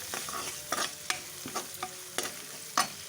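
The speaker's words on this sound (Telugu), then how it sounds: "ఇలా పసుపు వేసి కొంచెం ఫ్రై చేసి" Turmeric is stirred and fried in hot tempering oil with green chilli, curry leaves, garlic paste and onions, giving a soft steady sizzle broken by several sharp spoon scrapes against the pan, close up and without speech.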